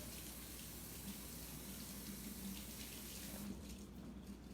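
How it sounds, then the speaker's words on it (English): Tap water runs steadily into a sink while frozen peas are rinsed to remove ice crystals, a constant close hiss and gush that thins slightly near the end. "I'm just gonna rinse my peas off, getting the ice crystals off."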